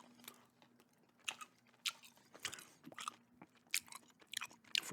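Gum is chewed close to the microphone with wet smacking and crunchy bites in an uneven rhythm, loud against a near-silent background with a faint steady hum.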